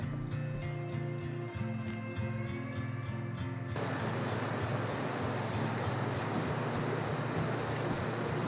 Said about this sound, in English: It's not raining, it's just water coming off the cliff.